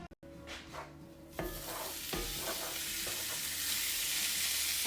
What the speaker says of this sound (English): I'm gonna add some olive oil, and then we're gonna add our beef.